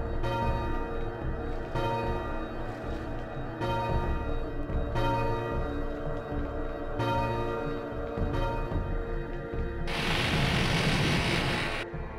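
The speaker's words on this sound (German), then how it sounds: "Wir läuten eine Glocke, ist das Dark Souls?" A deep bell in the Soul Reaver game tolls with a slow, repeating rhythm, each strike ringing out with a long resonant decay. A louder swelling rumble joins near the end.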